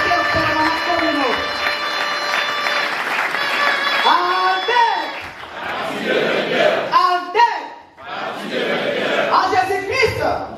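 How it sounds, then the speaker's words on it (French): A large assembly cheers and shouts for the permanent communal secretaries, a loud crowd roar with rising ululating cries and clapping, ebbing briefly and swelling again. "On acclame les secrétaires permanents communaux."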